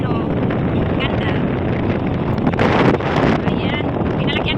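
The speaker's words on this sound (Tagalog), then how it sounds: "Pasensya na po kayo sa hangin" Strong wind buffets the microphone aboard a boat traveling toward Dumaguete, a steady loud roar with gusty surges throughout.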